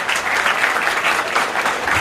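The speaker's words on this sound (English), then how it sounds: "Let's give a big round of applause." Steady audience applause at a dairy cattle show fills the clip, dense and continuous clapping from a crowd with no talk.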